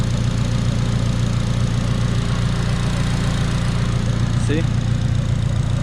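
Acura RSX Type S engine idling steadily with a TSX alternator fitted, a continuous close, loud low hum throughout, with someone speaking briefly over it near the end.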